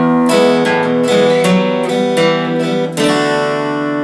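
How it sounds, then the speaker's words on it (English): A solo guitar plays the riff from the end of the verse of a song: a close, clear run of plucked and strummed notes with distinct attacks, heard alone without any talking. "I'm going to show you that riff that happens at the end of the verse"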